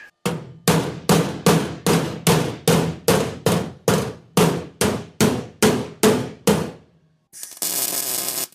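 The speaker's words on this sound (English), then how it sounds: "probably gonna get the big hammer, club that into shape" Heavy hammer blows clubbing custom metalwork into shape, about fourteen loud ringing strikes in a steady rhythm, followed by a short burst of broadband noise.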